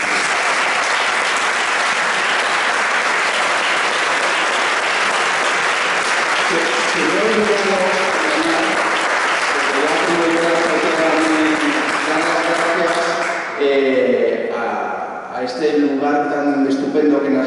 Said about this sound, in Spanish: yo creo que te has ganado un aplauso bastante importante